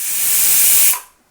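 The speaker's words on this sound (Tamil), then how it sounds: "ஒரு விசில் போதும்." A pressure cooker on a gas stove vents steam in one loud, close hiss. It holds steady for about a second, then cuts off and fades quickly.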